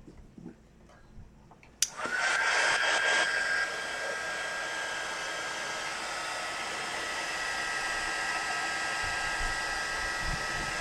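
After a click, a heat tool switches on and blows a steady, close whooshing hum to dry permanent ink on a matte gel medium coating on a clipboard. The tool runs continuously without talk.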